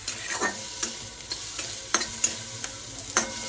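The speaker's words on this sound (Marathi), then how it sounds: "दोन मिनटं आपण शिमला मिरची अशी फ्राय करणार आहोत" Capsicum frying in butter in a pan, a steady close sizzle punctuated by regular scraping stirs of a spatula, with no voices.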